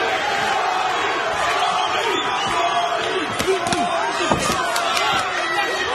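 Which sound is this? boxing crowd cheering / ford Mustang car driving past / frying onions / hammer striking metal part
boxing crowd cheering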